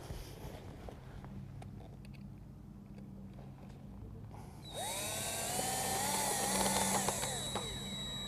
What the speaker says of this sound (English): we're just going to take and screw them together to make the base.